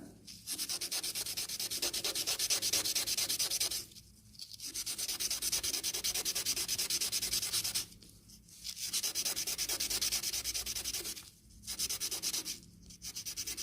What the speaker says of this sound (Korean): 사포에는 연필 모양으로 문질러서 갈아주면 돼요